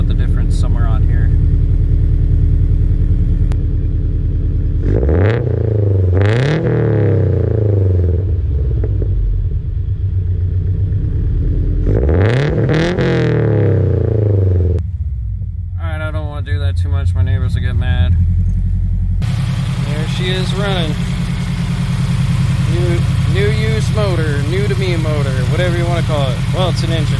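A Toyota FRS with a new Tomei UEL header runs close by: a deep engine rumble with several revving rises, a slightly uneven idle and someone talking over it.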